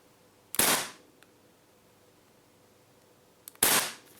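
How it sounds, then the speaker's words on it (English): Two loud, sharp CO2 pistol shots from a Secutor Rudis fitted with a high flow valve, each a crisp crack with a short tail, about three seconds apart and close by. "And this is how a Rudis should sound with a high flow valve."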